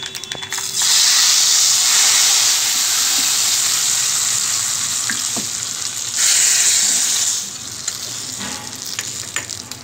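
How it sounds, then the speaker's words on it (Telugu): Hot tempering of seeds, onion and curry leaves is poured into sorrel-leaf (gongura) dal and hisses loudly. A sharp sizzle surges up, settles, then flares again before fading, with faint stirring clicks and no speech. "ఇలా పోపు ఇందులో వేసుకోవాలి"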